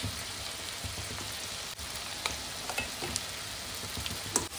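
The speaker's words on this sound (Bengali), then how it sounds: "মশলাটা ওদিকে কষা হচ্ছে" Coriander chicken curry's spice paste sautéing in a pan, a steady low sizzle with soft scraping stirs and occasional small pops, fairly quiet and close with no voices.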